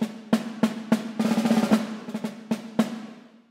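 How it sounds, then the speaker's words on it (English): Sharp single snare drum hits from the Synchron percussion library, recorded on a large Vienna scoring stage, cracking out with room reverb, including a brief roll-like flurry in the middle, loud and without voices. "Synchron snare drum,"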